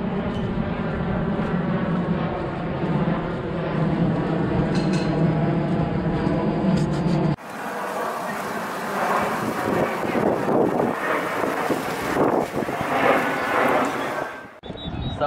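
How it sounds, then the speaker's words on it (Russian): An Airbus A320 passes over a beach at Naama Bay, Egypt, as a loud, sustained jet roar with strong wind buffeting, continuing after an abrupt cut before fading near the end. "Самолеты тут не перестают летать"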